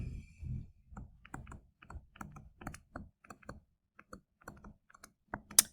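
Buttons on a calculator are pressed one after another, giving crisp, close clicks in an irregular rhythm with short pauses between them, in an otherwise quiet room.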